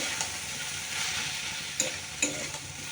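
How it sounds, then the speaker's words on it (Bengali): Vegetables are stirred in a hot pan over a soft, steady sizzle, with a few sharp scrapes and clinks of the utensil against the pan standing out near the end. "সবজিটা দিয়ে একটু ভালো করে নেড়ে চেড়ে ফুটিয়ে নেব"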